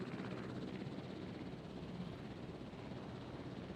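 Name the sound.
helicopter in Jurassic World Evolution video game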